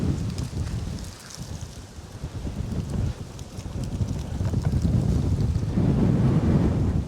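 Strong outdoor wind gusts buffet the microphone during a round of disc golf, a loud, continuous rumbling roar that swells and eases with no voices.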